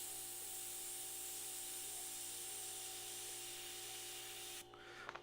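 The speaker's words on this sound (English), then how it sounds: "yeah, that's Airbrush" Steady airbrush hiss as paint is sprayed during a painting session, a continuous broadband airy rush that holds evenly and then cuts off abruptly near the end, leaving a few small clicks.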